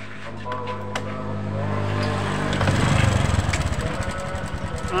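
Motorcycle engine with a noisy, rough idle, starting up, then chugging in an uneven rapid pulse, loud and close.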